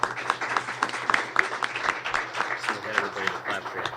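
Audience applause at a Chamber of Commerce press conference, a steady patter of many hands clapping throughout, fairly close and moderately loud, with some voices mixed in.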